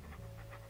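A dog panting in Monkey Island 2 Special Edition, on Phatt Island, with quick, soft, rhythmic breaths over a steady low background hum.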